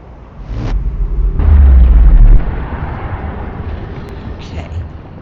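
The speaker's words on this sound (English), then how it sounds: "I'm pretty sure that's an exploding star." A huge exploding star in the space game Outer Wilds, a loud rumbling roar that swells into a deep boom and then fades into a long, noisy wash, with a voice speaking over it.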